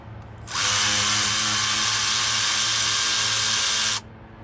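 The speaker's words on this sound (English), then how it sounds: "Let's see inside a ratchet in action." A ratchet wrench whirs in one steady, high-pitched mechanical buzz for about three and a half seconds during an AC compressor removal on a Mazda RX8, with nothing else audible.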